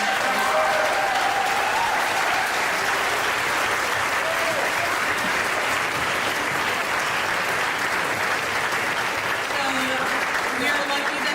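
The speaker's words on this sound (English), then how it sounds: "So let's give another round of applause" Crowd at an International Day of Peace event applauds loudly and continuously, dense clapping with occasional cheers and voices mixed in throughout.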